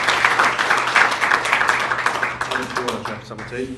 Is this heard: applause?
yes